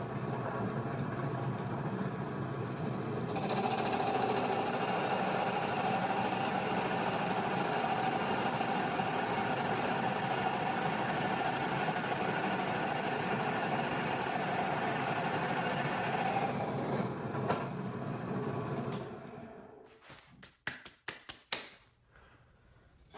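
A Harbor Freight drill press spins up and bores into pine with a Forstner bit, a steady loud motor drone and cutting rumble lasting well over ten seconds, then winding down and ending in a few scattered taps and clunks.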